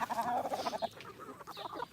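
Farm chickens, lined up along a trail of feed, cluck and chatter in quick irregular bursts close by, several birds overlapping, with no people talking.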